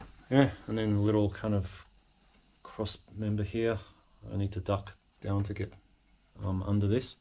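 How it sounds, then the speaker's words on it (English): Cicadas at the Kannonzuka Kofun burial mound in Yawata, Japan, keep up a steady high buzz in the background while someone talks through most of it. "And you can hear the cicadas in the background"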